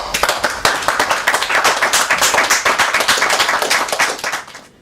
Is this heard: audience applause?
yes